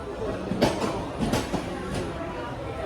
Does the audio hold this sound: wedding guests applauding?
no